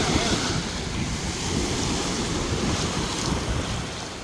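Ocean waves wash in steadily at a hot beach in Thailand, a broad continuous surf roar with some wind across the microphone and no speech.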